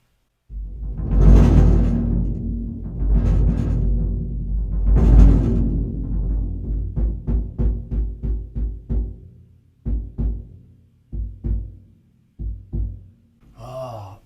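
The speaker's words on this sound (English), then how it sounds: "The first is the bass drum right here." A big, deep orchestral bass drum booms a few times with long ringing decay, then settles into a run of softer, quicker low thumps.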